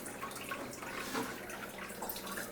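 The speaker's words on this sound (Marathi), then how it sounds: "आणि कुकरमध्ये पाणी टाकूयात आपण." Water pours steadily into a pressure cooker being readied to cook soaked red cowpeas, a continuous close, moderately soft splashing stream with no talking.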